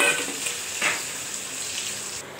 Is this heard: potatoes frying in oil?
yes